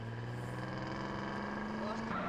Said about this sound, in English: We're just stuck with the handbrake on and full engine.